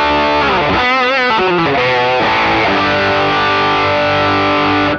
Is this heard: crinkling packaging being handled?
no